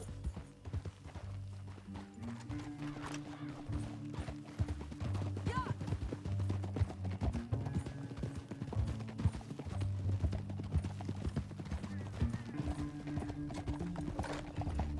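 Rhythmic hoofbeats of a galloping horse pound continuously over a low musical score, with a brief whinny and clattering game-like effects, in the video game Red Dead Redemption II.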